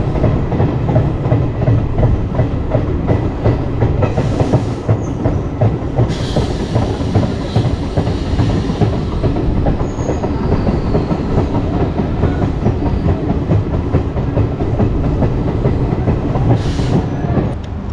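A train rolls into Sevoke station on the line being extended toward Rangpo in Sikkim, with a steady loud rumble and rhythmic clickety-clack of wheels on rail joints. It continues unbroken throughout, with no talk.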